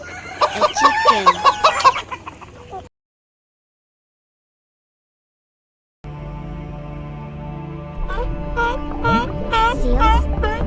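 A chicken clucks in a burst of near calls, then after a few seconds of silence a farmyard scene returns with steady background sound and repeated rising crow-like cries.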